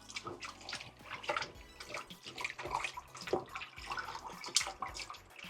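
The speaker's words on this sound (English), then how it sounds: "I'm gonna wash it with some lime and vinegar water" Raw chicken legs and thighs are swished and scrubbed by hand in a bowl of lime and vinegar water, producing close, irregular sloshes and splashes of varying loudness.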